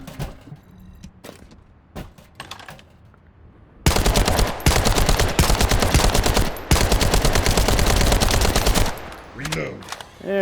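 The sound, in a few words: weapon gunfire in test laboratory, The First Descendant video game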